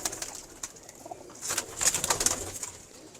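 An old pet pigeon coos repeatedly up close, with soft throaty phrases and a few sharper chirps from other birds in the loft.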